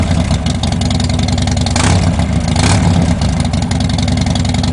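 A fuel-injected motorcycle engine on a LiFePO4 battery cranks and runs loud and close, a dense mechanical chugging with a couple of brief surges partway through.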